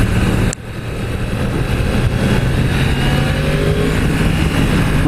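A 2016 Yamaha YZF R1 sportbike on a test ride gives a loud, close, continuous engine drone mixed with wind rush, with a brief dip near the start before the steady roar resumes.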